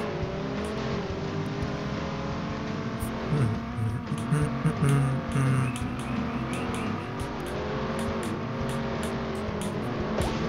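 A racing car engine drones steadily in the game Beach Buggy Racing, with a constant roar and occasional short clicks and blips over it.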